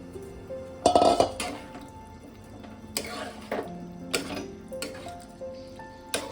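A metal spoon stirs and scrapes in a pan as boiled chickpeas go into chana masala. It makes a few clinks and scrapes, close and moderately loud, with quieter stretches between them.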